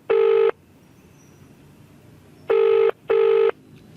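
A telephone call rings unanswered as three loud, steady electronic ring bursts, each about half a second long, sound close by with quiet gaps between them and no voices.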